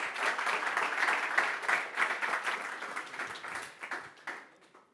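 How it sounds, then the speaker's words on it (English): A conference audience applauding steadily, dense clapping that holds then gradually fades out toward the end. "Another big round of applause, please"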